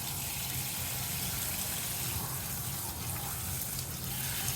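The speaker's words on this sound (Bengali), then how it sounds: "পোলাও চাল ধুয়ে নিব।" Polao rice being washed under running water for chicken biryani, a steady, close splashing and gushing flow that continues evenly throughout with no voices.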